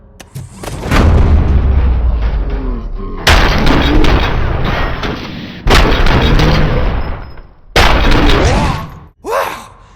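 Heavy gunfire and booming blasts in the Robocop: Rogue City video game, loud and close, arriving in several long sustained bursts separated by brief gaps, with a short final blast at the end.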